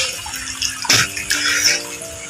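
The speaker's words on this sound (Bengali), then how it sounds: "দেখুন জল বেরোচ্ছে" Water gushes from a pipe draining a shing fish tank, a splashing rush that surges and then runs steadily, fairly close and loud, with no talking.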